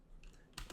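A few quick keystrokes on a computer keyboard as a sudo NixOS rebuild command is entered, soft clicks clustered in two short bursts, close and fairly quiet.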